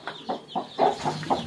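A hen that has hatched chicks clucks in a farmyard coop, giving a run of short, close, fairly loud clucks in an uneven rhythm with no talk over them.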